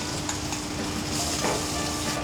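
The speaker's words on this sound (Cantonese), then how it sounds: "再加翻少豬油啊，放啲豬肉落去爆香佢" Meat sizzling steadily as it fries in fat in a pan, a constant dense hiss with no talking.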